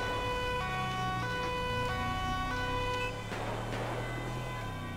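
An ambulance siren in the video game GTA 5 wails steadily with rising and falling tones, close and loud over a low engine rumble, then fading slightly near the end.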